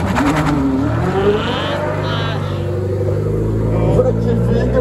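A Ferrari Daytona SP3 revs at the start of a hill climb race, its engine note rising and rumbling loudly nearby while a commentator talks over it.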